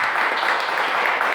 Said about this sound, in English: One more round of applause for Ruben, please.